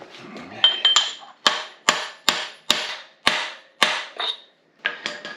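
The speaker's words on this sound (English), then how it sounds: "And hammering on the crankshaft is what I'm doing." Several sharp metallic hammer strikes on the crankshaft of a GMC 302 inline-six engine ring out one after another at an uneven pace, each with a short clanging decay, close by.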